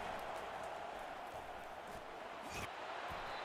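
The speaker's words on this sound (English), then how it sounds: "It is getting loud as this crowd tries to help its defense." A stadium crowd in a college football video game roars as a steady, dense wash of noise, swelling slightly in places with no clear breaks.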